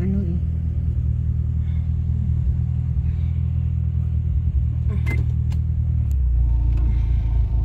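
A car engine rumbles steadily while driving, a constant low drone with faint rattles and clicks in the cabin and a change in engine tone near the end.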